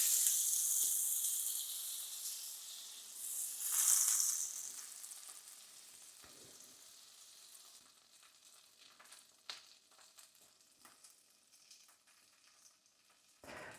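About 15 grams of butter melting in a hot pan for spiced-egg custardy toast: a bright, loud sizzle at first, then dying down to softer, scattered crackles and pops, with no talking.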